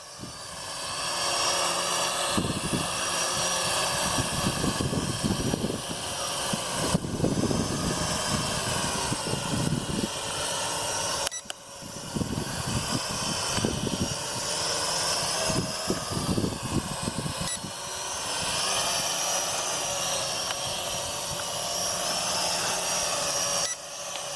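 A Venom Pro GPS streaming drone flies outdoors at an old YMCA building, its propellers giving a continuous loud buzzing whine that swells and dips as it maneuvers.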